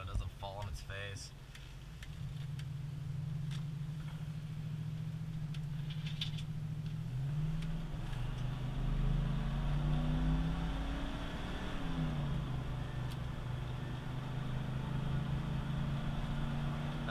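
A car accelerates up a long freeway on-ramp incline, the engine drone steady and rising in pitch as it climbs, heard from inside under continuous road noise with a person talking throughout.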